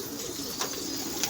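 Pigeons coo softly in a short stretch of faint, low calls against an outdoor background hiss.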